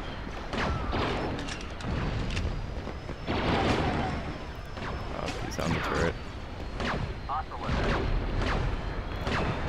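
Blaster gunfire and explosions in Star Wars Battlefront, with repeated loud booming shots and impacts in irregular bursts across a dense battle backdrop.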